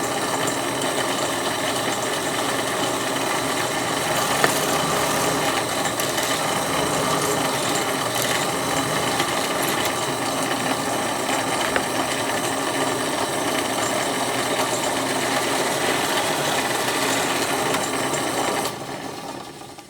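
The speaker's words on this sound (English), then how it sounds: "with a 1/2-inch paddle bit installed in the drill press, I'm going to drill my hole for my axle right here" A drill press fitted with a 1/2-inch paddle bit bores an axle hole through wood, giving a steady, loud, continuous whine and grinding that holds for most of the stretch before stopping abruptly near the end.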